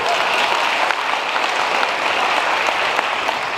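A seated crowd at a motivational talk on luxury and success breaks into thick, continuous clapping, loud and even throughout, with no voices over it.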